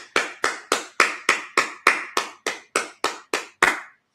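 A Sabbath service congregation claps together in a steady unison rhythm, about a dozen sharp, evenly spaced claps over roughly four seconds, close and clear with no talking.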